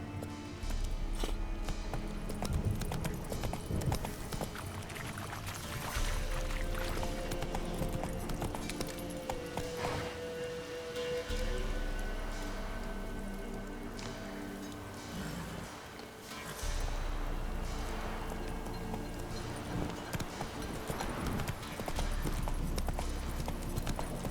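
Hoofbeats of the horse Roach in The Witcher 3: Wild Hunt, a steady clip-clop of trotting hooves close by, rhythmic and continuous, with brief pauses and changes of pace and some ambient game sound beneath.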